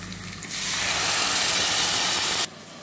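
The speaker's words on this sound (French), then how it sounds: "on va commencer par faire frire les oignons" Onions and tomato dropped into hot oil in a pan: a sudden, loud, hissing sizzle bursts in after half a second, holds strong and steady for about two seconds, then cuts off abruptly, close and unaccompanied by speech.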